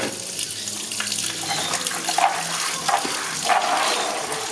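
Cooked maize for tortillas being washed in water, a steady running, splashing wash with gurgles and brief sloshes from hands working the grain, close and continuous, with no one talking.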